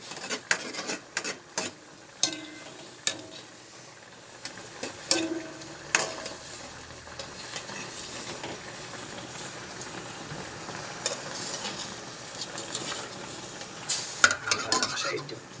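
Egg stirred into a sizzling tilapia sauce in a pan, with a low continuous sizzle punctuated by irregular scraping and clinking of a utensil against the pan, close and without talk.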